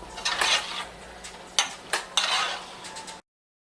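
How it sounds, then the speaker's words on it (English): Greens and noodles being stirred in a pan while cooking a pork chop dinner, a utensil scraping and clattering against the metal in several short bursts, close and fairly quiet, with no talking. "Again, you stir your greens to get them moved around and all of them cooked through."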